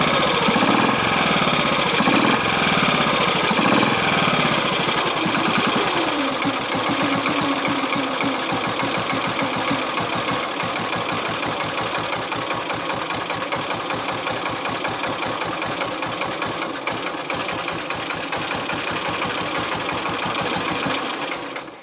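A BSA Gold Star ZB32 motorcycle engine fitted with a TT carb runs while not yet fully warm, giving a loud, steady, rapid single-cylinder thumping with mechanical clatter, close by and with no talk.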